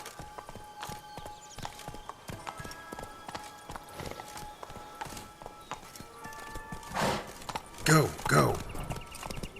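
Hooves of the horse Roach clip-clop at a steady gallop in The Witcher 3, rhythmic and close. A voice speaks briefly near the end, over louder bursts of game sound.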